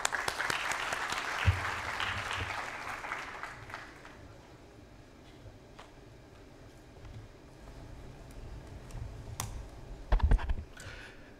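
Audience applause welcoming panel speakers at a digital marketing summit, a loud burst of clapping that swells, then fades to scattered claps before a few final louder claps.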